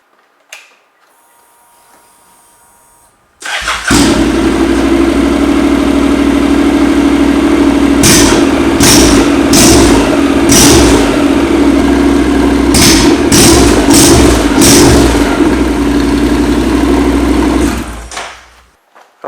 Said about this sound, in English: Alright, so this is what it sounds like with no muffler.